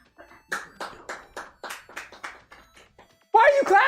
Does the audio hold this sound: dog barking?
no